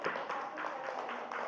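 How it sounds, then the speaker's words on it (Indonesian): A classroom group gives brief applause for a student group after its presentation, a short, diffuse wash of many hands clapping at a moderate distance. "beri tepuk tangan untuk kelompok 2"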